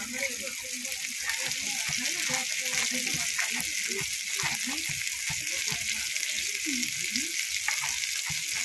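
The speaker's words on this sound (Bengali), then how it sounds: "এবার পরিমাণ মতো লবণ হলুদ দিয়ে মশলাটা ভালো করে কষিয়ে নেব" Spice paste seasoned with salt and turmeric frying and being stirred in a pan, a steady close sizzle with scraping spoon strokes throughout, alongside low voice-like sounds.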